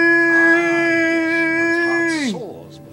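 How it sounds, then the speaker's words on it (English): A dog howls in the video game Fable 3, a long, steady, tonal wail held for about two seconds before it slides down in pitch and fades. The howl is loud and close, with faint background noise around it. "Doggy!"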